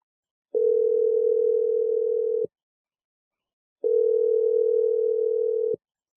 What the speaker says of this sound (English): let's just call Carrie and see what she has to say